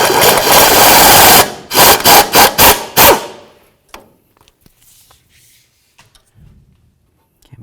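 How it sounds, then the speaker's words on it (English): A 3/8 inch air impact gun hammers on a 12mm bolt on a 2003-2009 Toyota 4Runner front wheel hub, one long loud burst followed by four short rattling bursts, then a few faint clicks and handling noises. "So I like to use a 3/8 air gun."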